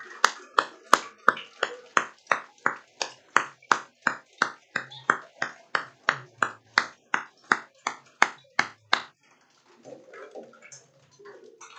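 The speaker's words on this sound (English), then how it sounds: "can I please get a round of applause for all that they do for all of us?" Rhythmic, evenly spaced claps ring out about twenty times over nine seconds at a 5th grade promotion ceremony, each a crisp, echoing slap, before fading into quiet murmuring.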